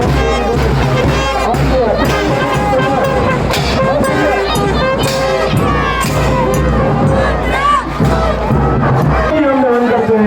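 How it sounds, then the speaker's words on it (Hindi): A large crowd at a school Independence Day event loudly cheers and claps for a Chandrashekhar Azad tableau, a dense sustained roar of applause and shouting that fills the whole stretch, with an amplified voice running through it. "ये देखिए जोरदार तालियां चंद्रशेखर जी के लिए"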